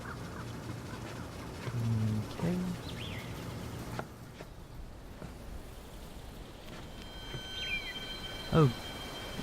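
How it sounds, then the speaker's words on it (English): Bird chirps and calls in the video game Myst IV: Revelation, a few short whistled notes near the end over a steady ambient game background, moderately faint. "Oh, this bird's so cute."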